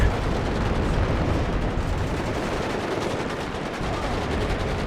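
Dense, continuous machine gun fire and explosions from a battle in the real-time strategy game Warno, with loud rapid bursts merging into a constant roar for the whole stretch and no talk.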